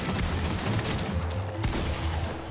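Six shooter revolver firing in Fortnite, a dense, loud stretch of gunfire with overlapping shots and a low rumbling bed, close and continuous through the short span.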